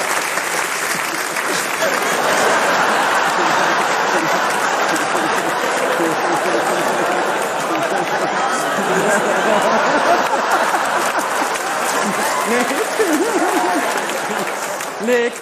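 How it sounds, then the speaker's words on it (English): Theatre audience at Drury Lane breaks into loud, sustained applause, a dense wash of clapping that fills the room for about fifteen seconds, with faint chatter beneath. "Big round of applause for Nick, please."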